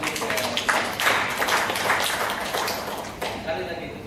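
Audience applause at a workshop on synchronizing the SRAP REDD+ program fills the room as a steady, dense wash of clapping. It holds fairly evenly with a slight dip near the end.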